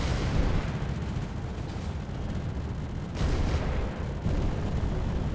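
Gunfire from turret guns shooting at a drone in the Space Engineers game, a dense continuous rumbling barrage of booming shots with brief lulls, loud and close.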